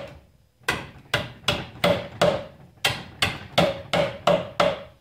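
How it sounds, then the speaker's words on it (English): Hammer tapping nails into an IKEA drawer: about eleven sharp, close blows in a steady rhythm, with a short pause after the first few strikes and no talking. "Then take your hammer, and I'm going to hit it."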